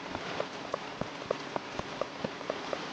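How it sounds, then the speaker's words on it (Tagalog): Steady Minecraft rain pattering on a surface, a constant wash of drops with small, regularly spaced ticks and knocks on top. "sorry guys kung naririnig nyo yung ulan. May ulan kasi dito"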